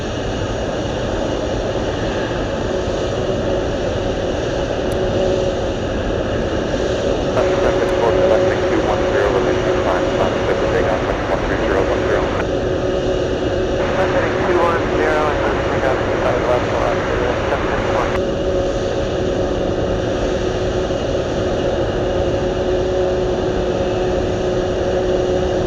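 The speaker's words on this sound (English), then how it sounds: "The Blue Angels catching me by complete surprise." Blue Angels military jets fly past over Anchorage in a sustained loud roar that swells and shifts across the pass, with a person talking excitedly throughout.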